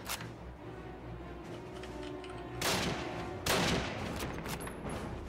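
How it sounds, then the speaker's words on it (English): Gunfire in Call of Duty rattles in rapid bursts over dense battle noise, two loud volleys standing out midway amid continuous distant shooting. "We're getting shot at."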